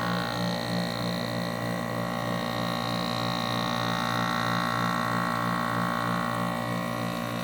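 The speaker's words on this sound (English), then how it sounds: "It's on, but the fan's not turning on for some reason." Powered-on air conditioner whose fan is not running, giving a steady low electrical hum with faint tonal whine, constant and moderately quiet with no speech.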